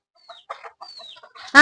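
Chickens on a Kerala chicken farm give short, close clucks and thin rising calls in quick succession, ending in a sudden loud squawk.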